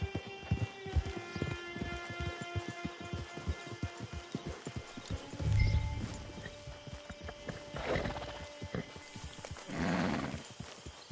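Horse hooves clip-clopping in the video game Red Dead Redemption Online, a steady rhythmic trot with a few whinnies and snorts over a game music bed, with no talking.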